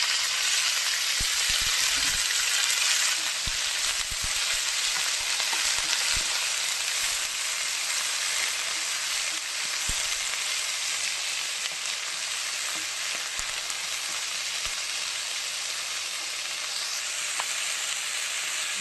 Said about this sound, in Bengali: লাল শাক ভাজা হতে থাক